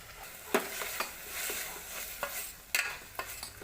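Radish pods stir-fry in a pan with a continuous close sizzle, broken by scattered scraping clicks of a spatula stirring and turning them; nobody speaks.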